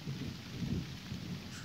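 Steady rain falls during a thunderstorm while someone waits outdoors, a dense, constant hiss with low thunder rumbling underneath, fairly faint and even throughout, no voices.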